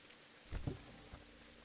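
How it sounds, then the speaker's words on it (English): Rain falls steadily outdoors as a soft, continuous hiss, faint and distant, with a few dull thuds from drops striking a surface near the start. "while it's still raining"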